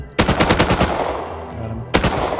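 Automatic gunfire in the survival game Rust rattles in a rapid close burst of about ten shots, then a short pause before another shot begins.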